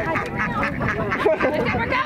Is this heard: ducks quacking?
yes